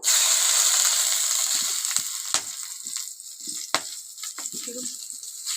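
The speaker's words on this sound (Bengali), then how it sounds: "গোটা গরম মশলা ফোড়ন দিলাম দারচিনি এলাচ লবঙ্গ" Whole cinnamon, cardamom and cloves hit hot oil with a bright, hissing sizzle that starts loud and gradually fades, broken by several sharp pops and crackles, close up.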